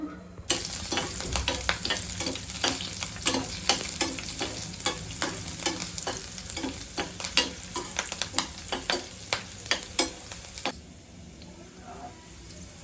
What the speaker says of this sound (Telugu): క్యారెట్ బఠానీ కూడా ఫ్రై అయిపోయినాయి